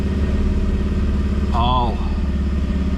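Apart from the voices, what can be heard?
80 series truck engine moving in drive after build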